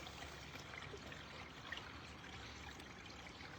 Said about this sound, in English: And the water seeping in here.